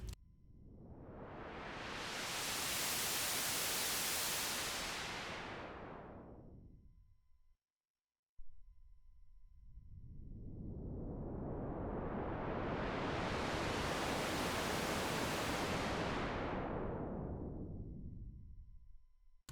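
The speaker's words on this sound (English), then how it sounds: "a multi-mode noise and fuzz source with white and pink noise" Two long swells of hissing white and pink noise from a Melbourne Instruments Nina synthesizer: one fades up and back down, then after a brief gap a second, darker wash rises and fades.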